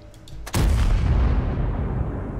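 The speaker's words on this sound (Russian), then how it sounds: "Закинул я такой выстрел блайндом в кусты те." A single heavy tank cannon shot fired in a video game, a sharp loud boom with a deep rumbling tail that slowly fades, preceded by a few faint clicks.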